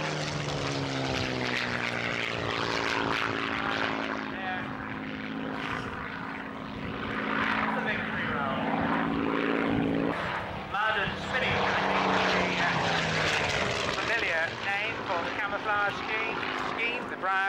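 A Spitfire propeller fighter flies past at an air show, its engine a loud, steady drone with shifting pitch that swells and fades across the pass, continuous throughout.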